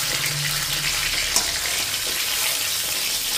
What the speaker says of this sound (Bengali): মাছের একটা সাইড আমি ভেজে নিয়েছি